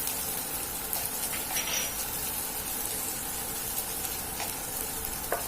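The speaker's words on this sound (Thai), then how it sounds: "ให้ใส่น้ำมันลงในกระทะเล็กน้อยค่ะ กะปิเราก็ลงไปคั่วให้หอมนะคะ" Shrimp paste roasting in a little oil in a small pan, a steady soft sizzle with faint scraping stirs and a few light clinks, no talking.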